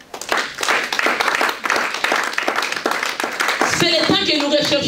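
A church congregation claps steadily and rhythmically through the whole stretch, with voices mixed in over the applause.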